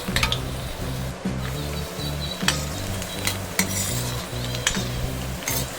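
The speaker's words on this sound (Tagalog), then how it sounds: "Igisa lang natin yung bawang guys hanggang sa lumabas yung kanyang aroma." Garlic sautés in oil alongside pork sausage, a steady close sizzle broken by frequent sharp scrapes and clinks of a utensil stirring against the pan.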